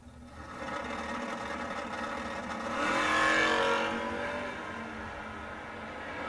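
Race cars launching at a memorial drag race event, a distant engine roar building and swelling to a peak mid-way before fading, heard without talk.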